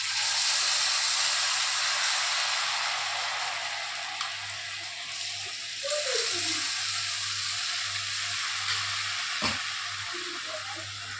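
Wheat appam batter, sweetened and ladled spoon by spoon, fries in hot oil over a low flame, giving a loud, steady close-up sizzle with a few faint clinks and stirring sounds.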